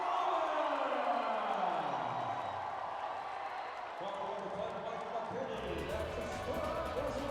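Basketball arena crowd in San Juan City cheering, a steady loud roar of voices that swells and holds throughout, with an announcer talking over it.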